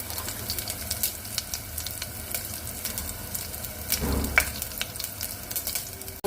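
Mustard seeds, cumin, curry leaves, green chili and asafoetida sizzle in hot oil, a continuous close crackle with scattered sharp pops and a louder burst near the end.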